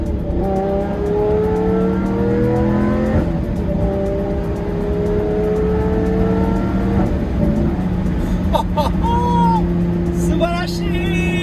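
Inside a Lamborghini Murciélago on a narrow country road, the engine drones and rises through steady revs and gear changes, loud and close, with people talking over it.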